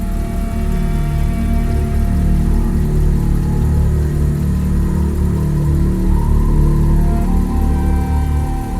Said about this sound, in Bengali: ইঞ্জিনটাও তো চালু রয়েছে,